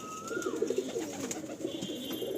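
A pair of pigeons coo in soft repeated throaty phrases close by, with a few faint chirps and a brief whistle-like tone early on.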